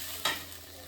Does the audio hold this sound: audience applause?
no